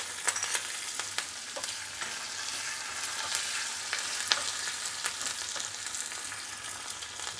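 Green chillies and curry leaves crackle in hot oil as a tempering over fried spices, a steady close sizzle with scattered sharp pops and spits throughout, no voices.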